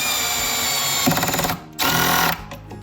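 A power drill drives Phillips head screws into a wooden drawer front, giving a steady whirring run with short bursts and a clear stop-start pattern, close and loud.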